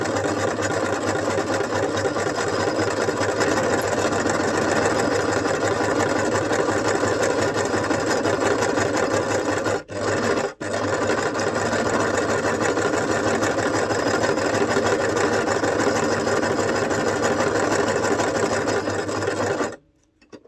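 Sewing machine stitching a pocket for a handmade multiple-journal book, motor humming in a loud, steady, continuous drone for about twenty seconds with two brief pauses midway before stopping.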